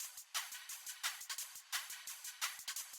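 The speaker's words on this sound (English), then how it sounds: "It looks like we got a chorus going on too, just gives it a bit of stereo width." Drum loop from an electronic track with a chorus effect widening it in stereo, kick and snare hits repeating in a steady groove with bright hi-hat wash on top, no voices.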